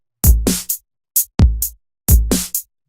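A drum beat programmed in FL Studio 11 plays alone: punchy kicks with snappy hits in a tight repeating pattern, three loud bursts of layered percussion with short gaps between them.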